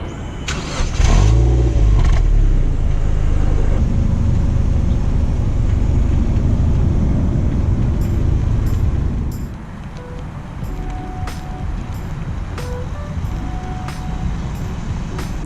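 A Mazda NC1 Miata engine starts with a sharp crank, then idles loudly and roughly before settling to a quieter steady hum, with faint clicks over it.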